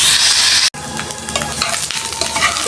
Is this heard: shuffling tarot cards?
no